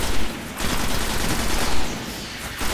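Sustained gunfire in the online shooter Destiny, a dense fusillade of shots rolling on for the whole stretch, loud and close with short swells in intensity and no talk over it.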